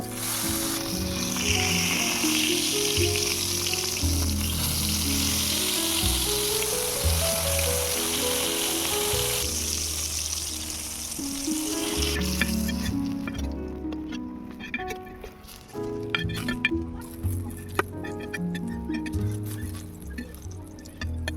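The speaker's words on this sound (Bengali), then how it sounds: "আবারও বাকি বেগুনগুলো ভেজে নেব" Eggplant slices fry in hot oil in a pan, giving a steady, loud sizzle with bubbling crackle and scattered pops throughout.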